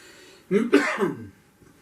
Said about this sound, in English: Cough again. Can you excuse me again?